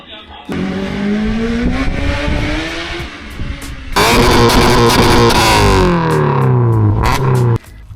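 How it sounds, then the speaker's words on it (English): An Audi with a 3-litre engine revs loudly and nearby, its pitch climbing and falling in repeated sweeps, with a sharper, harsher burst in the second half before it cuts off. "Check out the Audi."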